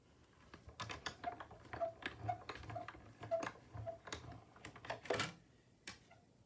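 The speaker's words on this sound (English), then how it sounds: "Now I'm going to get my Stamp and Cut and Emboss machine" A Stamp and Cut and Emboss craft machine runs with a series of light, evenly spaced mechanical clicks and ticks. The quiet, close clicking pattern ends with a couple of sharper clacks.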